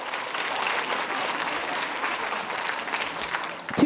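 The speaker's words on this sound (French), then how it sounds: "on peut les applaudir encore une fois" Audience applause for the winners at a Secondaire en spectacle local final, a steady wash of many hands clapping throughout, cut off abruptly at the end.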